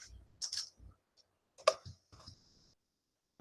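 Typing on an American-layout computer keyboard: sparse, irregular key clicks and taps in small clusters with quiet gaps between them, close by and crisp, no talking over them.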